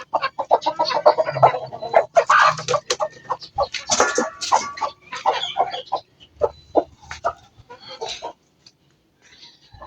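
Hens cluck and squawk in short, busy bursts close by, several birds overlapping before the sounds thin out near the end.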